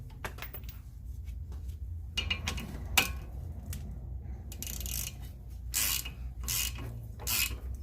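Bolts, 12mm, being threaded into a stuck brake rotor with a ratcheting tool, giving repeated close mechanical clicks and metallic scraping in uneven bursts, with no talking.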